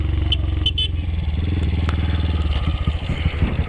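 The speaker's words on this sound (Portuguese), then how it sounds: "Ô moto boa, cê tá doido, Picate?" A motorcycle engine runs close by with a throbbing, steady rumble, plus a few brief clattering and scraping noises.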